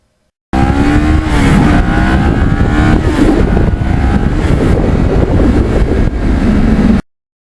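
A Kawasaki Ninja motorcycle accelerates on an open road, its engine a loud, steady roar with rising pitch, heavily mixed with wind rush over the microphone, then cutting off abruptly.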